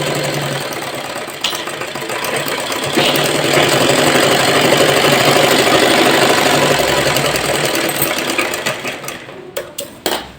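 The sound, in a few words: sewing machine stitching a kurti's seam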